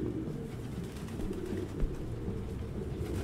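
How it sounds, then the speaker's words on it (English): Pigeons cooing in a video game's indoor crime scene, low soft murmuring coos repeating over a dull rumbling background, with one brief thump partway through. "No human could live with all these fucking pigeons."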